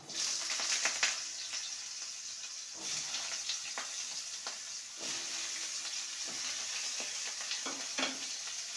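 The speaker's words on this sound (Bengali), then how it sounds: "আলুটাকে ভেজে নেব একসঙ্গে" Potato and chichinga (snake gourd) fry in mustard oil in a pan, with a continuous soft sizzle and hiss broken by several scraping stirs of a spatula, close by and with no talking.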